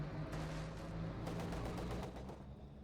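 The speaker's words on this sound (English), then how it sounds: "lots of mortars going in on the church" Mortar and gunfire from a Company of Heroes 2 battle around a church, a steady dense rumble of repeated blasts and crackling shots with a low hum underneath, no voices.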